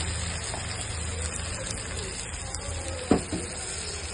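Onion paste added to a curry in a hot pan, giving a steady low sizzle throughout with a single sharp clink of a utensil near the end.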